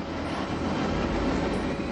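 A fully automated, computer-flown airplane drones steadily at a constant level for the whole stretch, a broad continuous engine roar with no pauses and no voices.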